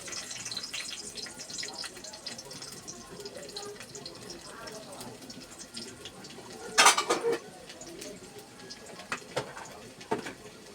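Chopped garlic drops into hot oil with a sudden loud burst of sizzling, then crackles on more quietly. Faint, indistinct voices murmur in the background.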